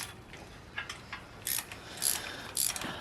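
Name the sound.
tightening the distributor clamp on a big block engine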